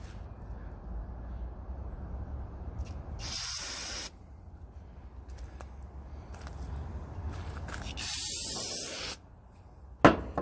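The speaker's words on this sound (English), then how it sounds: "Maybe a little O'Reilly's brake cleaner will work." O'Reilly's brake cleaner aerosol sprays in two loud, sustained bursts of about a second each, close to the listener, with a quieter hissing background and a sharp spurt at the very end.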